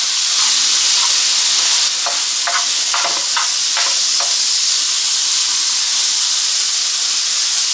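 Shrimp sizzle and fry in a hot pan, a steady dense hiss with a few brief crackling bursts around the middle, loud and close with no voices.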